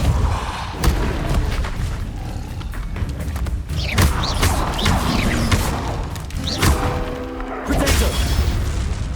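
Repulso spell blasts cast in Hogwarts Legacy, heavy booming thumps and crashing impacts recurring every second or two over a dense, continuous game soundscape with creaks and rumble.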